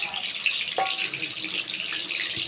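Chicken leg pieces hit hot frying oil with a bright, steady sizzling hiss, close and continuous with a few small pops.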